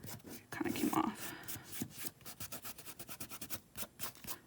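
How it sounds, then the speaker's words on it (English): Fingers rub the paper backing off an ink photo transfer, making soft scraping strokes in quick repeated bursts. The rubbing is close and quiet, with a brief voice early on. "the more you rub in one area, the more of the ink it'll remove"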